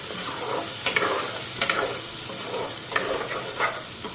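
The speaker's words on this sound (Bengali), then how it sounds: "এদিকে মশলা দিয়ে দিলাম, এদিকে দেখো তেলটা ছিটটা পড়লো।" Spices fry in hot oil in a pan for a chicken wing dish, a continuous close sizzle broken by sharp pops and crackles as the oil splatters, with no talking.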